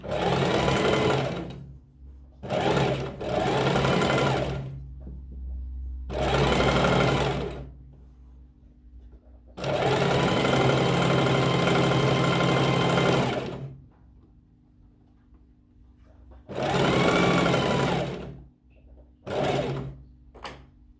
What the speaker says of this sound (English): I'm just going to stitch at 1/4 inch all the way down.